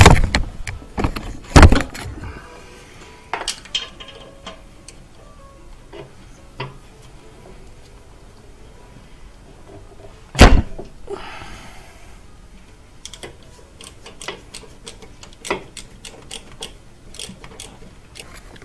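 Clicks and metallic ticks of a 3/8 ratchet loosening a 12mm bolt on a Subaru Outback engine during removal, with a couple of sharp louder knocks and sparse ticking spread through the clip.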